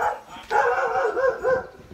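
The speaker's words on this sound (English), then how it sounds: "There's usually a really bad dog here too." Dog on a walk lets out a few tonal, whining barks and yips, moderately close.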